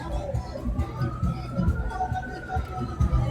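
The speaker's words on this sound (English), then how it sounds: "You hear the sirens now?" Wailing sirens rise and fall in the distance beneath a busy mix of crowd noise and nearby voices.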